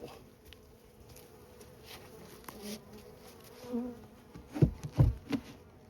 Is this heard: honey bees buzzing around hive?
yes